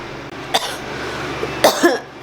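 A person coughing indoors, a few separate coughs with quiet pauses between them, close to the microphone.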